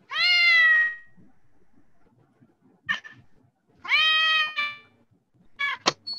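A cat meow sound effect in GarageBand on iPad plays as two long, loud, clear meows separated by pauses, each followed by shorter squeaky chirps, with no talk over them.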